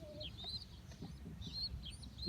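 Chickens cluck and chicks peep inside a backyard coop, with short bird calls rising over a steady low rumble of background noise.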